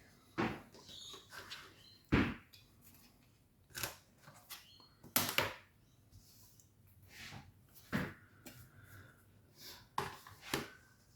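Fabric pieces for a Lotus quilt block are trimmed down with a small trimming ruler, giving a series of short, crisp snips and clicks spaced irregularly, close and fairly quiet, with no talk.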